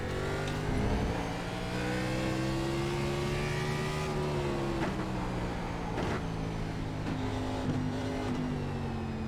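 A NASCAR race car in the iRacing sim, driving on worn tires, with its engine droning and shifting pitch steadily throughout, loud and continuous with no talk.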